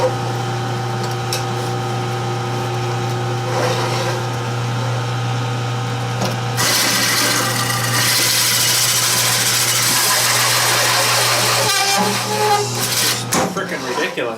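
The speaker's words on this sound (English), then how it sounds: "once I start drilling here, this thing's probably going to slip like crazy" A drill press motor hums steadily in a workshop, then a loud, harsh metal-drilling grind takes over for the second half and runs almost to the end, with a brief dip near the finish.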